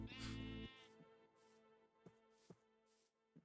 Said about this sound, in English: How's the sheeps?